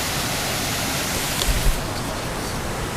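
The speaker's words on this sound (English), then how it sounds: "I had to get the picture of the falls and the river going through here." Steady, dense roar of a waterfall and a river rushing past near train tracks, loud and constant, with a faint brief knock partway through.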